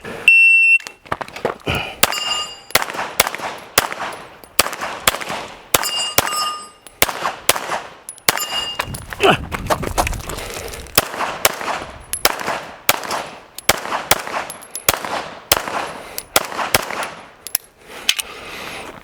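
Pistol shots at a shooting practice session, a fast series of sharp, loud cracks fired in quick strings with short pauses between bursts, close to the listener, with no voices.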